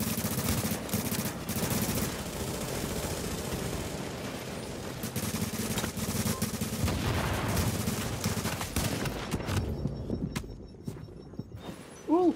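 Gunfire ringing out in a video game, with a shotgun produced unexpectedly: dense, loud continuous shooting and clatter for about nine seconds, then quieter with a final sharp burst at the very end.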